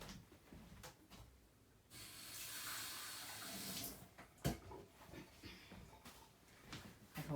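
Tap water runs into a sink in a short steady stream for about two seconds, faint and close, then stops amid small handling clatter and quiet rustling.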